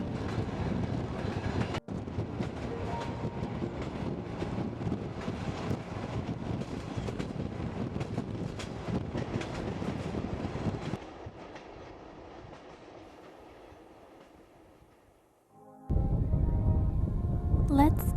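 A train in Mongolia rumbles steadily along the rails with a broad roar and wind, fading quieter toward the end before a louder burst returns.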